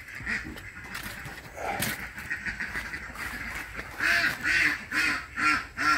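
Restless ducks in a pen built over a fish pond quack loudly nearby, first scattered calls, then a run of strong, repeated quacks in quick rhythm.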